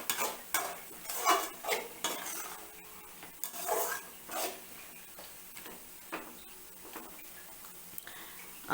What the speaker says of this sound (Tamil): இப்போ நம்ம கொஞ்சம் திறந்து வச்சு நல்லா கொஞ்சம் சுருளை வர மாதிரி வதக்கலாங்க